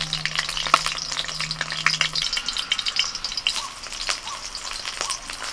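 Cabbage and paneer pieces frying in hot oil in a kadai while being flipped, a close, steady sizzle with scattered sharp pops and spatters and light utensil scrapes, with a brief hum at the start.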